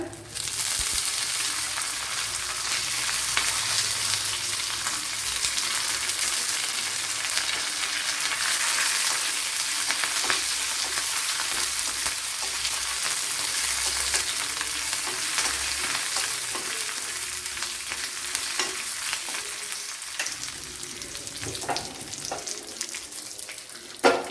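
Curry leaves and green chillies hit hot oil in a Kerala-style pan for aviyal, setting off a loud, continuous sizzle with stirring and scraping that persists evenly for about twenty seconds.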